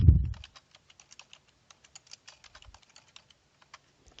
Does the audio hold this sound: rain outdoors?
no